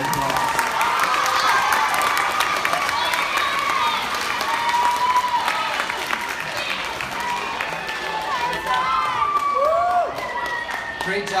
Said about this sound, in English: If we could please give the 6th grade excellent award winners a round of applause